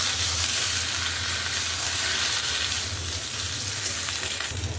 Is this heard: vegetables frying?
yes